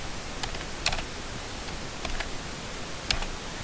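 Keys tapped on a computer keyboard while entering a transaction into banking software, a few soft, sparse clicks over a faint hiss, with no voices.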